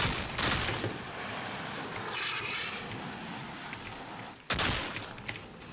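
Rapid automatic gunfire in the video game Outriders, a dense, loud burst of shots running almost continuously, with a sharp renewed volley near the end.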